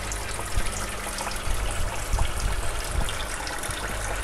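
Steady splashing flow from two filters in a home aquarium, water tumbling like a small waterfall, continuous and fairly close, with a few slightly louder surges and no talking.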